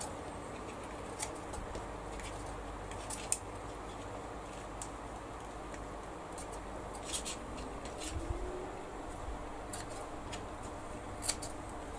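Scissors trim a small paper travel tag, faint crisp snips scattered at irregular intervals over a steady low background hum, with no talking.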